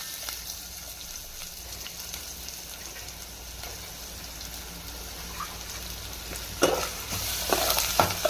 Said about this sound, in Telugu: ఆయిల్ కూడా బాగా హీట్ అయిన తర్వాత నేను ఇందాక కట్ చేసి పెట్టుకొని ఈ ఆనియన్ ఇందులో వేసుకోవాలా.